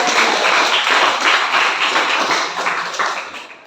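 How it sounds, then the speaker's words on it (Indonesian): A classroom of students applauds after a group presentation, a loud, close burst of many hands clapping that holds steady and tapers off slightly at the end. "mari kita berikan aplaus dulu"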